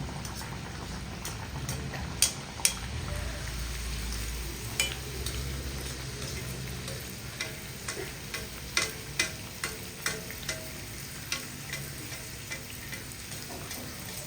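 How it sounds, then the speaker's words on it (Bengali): Pea-stuffed kachori puris deep-fry in a pan of oil with a steady, quiet sizzle and crackle, broken by a run of sharp ticks and taps from utensils, with no voices. "আমি সমস্ত কচুরিগুলো ভাজার ক্লিপগুলোই তোমাদের সাথে কিন্তু শেয়ার করলাম"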